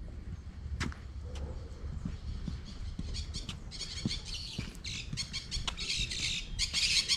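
Footsteps crunching on a forest trail in a nature park in Monte Verde, Minas Gerais, mixed with scattered bird calls and chirps that grow busier toward the end, at moderate loudness with no talk.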